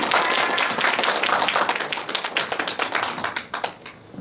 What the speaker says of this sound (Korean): 박노승 선생님을 큰 박수로 모시겠습니다